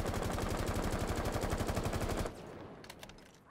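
An L85A2 rifle fires full-auto in Rainbow Six Siege: a loud, rapid, evenly spaced burst of shots for a little over two seconds, then it stops abruptly and a few faint mechanical clicks follow.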